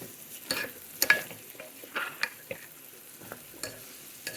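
Ginger garlic paste with turmeric fries in a pan: soft sizzling broken by repeated scraping stir strokes, close and fairly quiet, with no talking.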